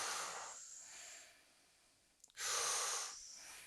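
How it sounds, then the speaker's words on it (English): A person does power breathing, drawing air in through the mouth and pushing it out through the nose. Two long, close, airy breaths with a short snort-like catch between them, at low level and with no talk. "I'll be breathing in through my mouth and out through my nose"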